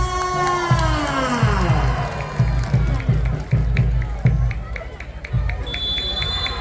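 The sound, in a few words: crowd applauding and cheering for a volleyball player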